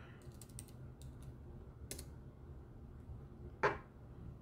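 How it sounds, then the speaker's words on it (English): Typing on a computer keyboard, with a short run of close key clicks, a few separate taps, a pause and then one sharper keystroke in a quiet room. "What I'm going to do, type in a word here."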